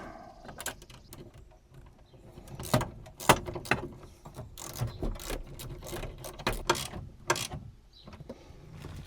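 A ratchet tightens a bolt on a high-output alternator on a 1970 Plymouth GTX, producing close, uneven bursts of rapid clicking with short pauses.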